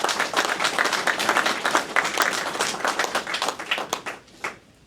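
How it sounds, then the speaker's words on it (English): An audience at a Veterans Day program in Brookline gives a round of applause, a close, lively burst of many hands clapping that thins out and fades near the end. "Let's have another round of applause"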